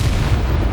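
Confringo fire spell from Hogwarts Legacy, a short, loud booming blast with a dense low-end rumble that fills the whole moment.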